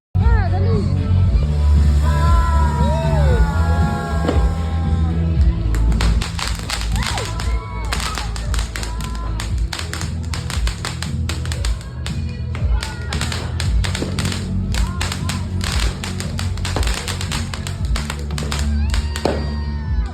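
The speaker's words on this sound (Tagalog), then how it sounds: "may mga iba na nagpapaputok na ng fireworks" Rapid bursts of loud cracking and popping New Year's fireworks crackle continuously, layered over a low rumble and faint voices in the background.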